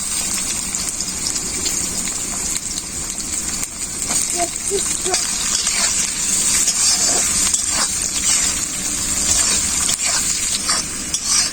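Capsicum, chillies and potatoes sizzle and crackle in hot oil, with occasional stirring scrapes over a steady frying hiss.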